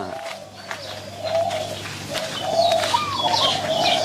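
A zebra dove coos in soft repeated phrases, with other birds chirping nearby and steady outdoor ambience underneath.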